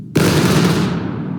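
A single loud musket volley rings out in the Civil War game War of Rights, a massed simultaneous discharge of rifles from a drilling infantry company, with a sharp onset and a long rolling echo that slowly fades.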